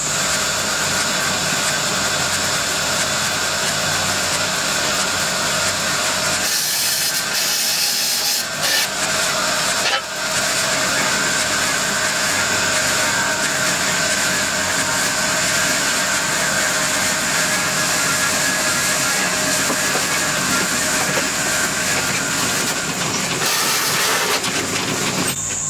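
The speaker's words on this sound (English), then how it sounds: "The muller's still working well." A homemade sand muller grinds on steadily, its continuous rumbling, rubbing churn holding at an even loud level throughout with a few brief scraping changes partway through and no talking.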